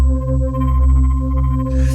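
A Chase Bliss Onward pedal set to a droning octave texture with its glitchy error effect engaged, sustaining steady stacked tones that waver slightly, with a brighter smeared burst near the end, heard alone.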